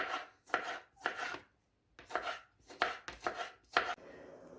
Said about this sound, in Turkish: Domate, domatesleri de küçük küçük doğrayalım.